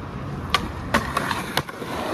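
Skateboard doing a 50 pole jam in San Diego, wheels rolling with a few sharp clacks and scrapes as the board strikes and grinds the pole, heard at moderate distance.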